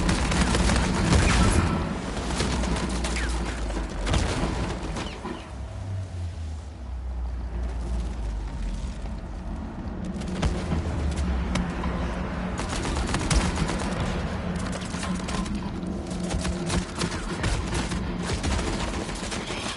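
Gunfire in the action game Uncharted, heard as dense, continuous volleys of shots mixed with booming game noise, loud and sustained throughout.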